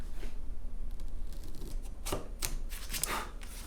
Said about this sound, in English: I'm gonna take my chisel, and we're just gonna cut it.